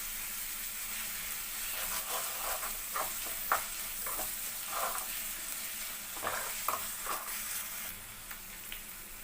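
Ginger garlic paste fries in a pan with a soft, steady sizzle while a spoon stirs it, giving intermittent scraping clicks. The sound is quiet and close.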